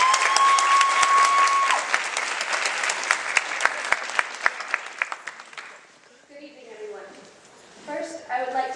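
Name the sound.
audience applause welcoming a pageant contestant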